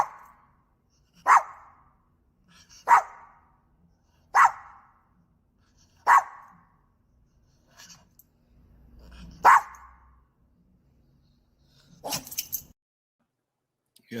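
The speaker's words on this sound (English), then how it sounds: "here's my dog for those of you that haven't met Gizmo before" A dog barks in single sharp woofs, about five evenly spaced barks close by, followed by a brief higher yip, with quiet gaps between and no talking.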